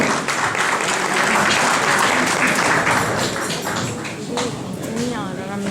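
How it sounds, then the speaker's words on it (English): A crowd at a speech event applauds in loud, dense clapping that fills the hall, thinning slightly toward the end as the noise settles. "Put your hands together, big clapping."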